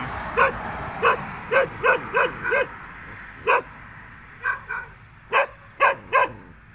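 A dog barks near a roadside termite mound in rural Thailand: about a dozen sharp, fairly close barks in uneven bursts with short gaps, over faint background hiss and no talk.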